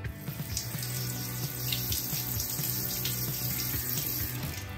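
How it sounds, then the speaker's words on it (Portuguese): A water tap runs in a Minecraft game, giving a continuous, even hiss of flowing water that stays steady throughout with no voices over it. "Vou ligar minha torneira."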